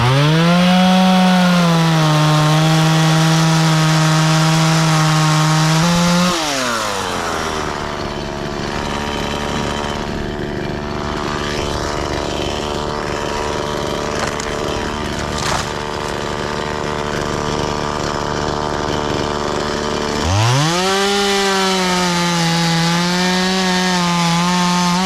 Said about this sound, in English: So get the chainsaw out, make it nice and easy, and we'll get a couple of logs.